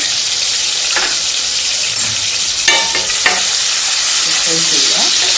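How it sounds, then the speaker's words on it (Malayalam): Ginger garlic paste sizzles loudly in a hot pan for a Malai Chicken Handi, a steady frying hiss broken by several scraping stirs of a spoon against the pan, with no voices. "ഇഞ്ചി വെളുത്തുള്ളി പേസ്റ്റ് കുറച്ച് വെക്കാം."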